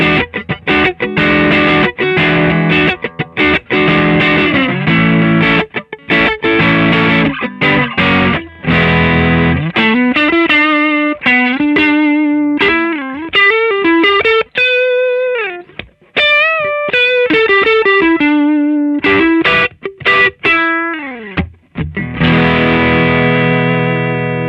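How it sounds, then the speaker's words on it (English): Electric guitar played through a Madbean 8ball overdrive pedal set to its hard clipping distortion mode, with gain and tone at noon; loud, saturated chords and sustained single-note lines run continuously without any talking. "Now for something a little closer to a distortion than an overdrive, we're going to switch to the hard clipping mode."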